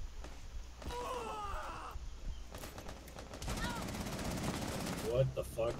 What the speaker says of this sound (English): Was someone shooting from the trapdoor?